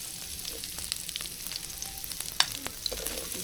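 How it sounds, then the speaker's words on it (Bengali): Onions fry in a little mustard oil in a pan, giving a faint, steady sizzle with soft crackles and one sharper pop, heard close and alone. "এর জন্য সামান্য অল্প একটু সরিষার তেল দিয়ে পেঁয়াজ দিয়ে দিচ্ছি।"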